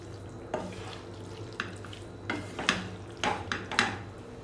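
A utensil stirs red sauce pasta in a pan, producing soft scraping and clinks against the metal with faint wet squelches, several quiet strokes spaced a second or so apart.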